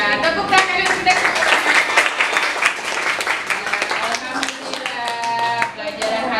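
A group of children claps hands in a lively, uneven burst of applause that continues for several seconds, with voices mixed in.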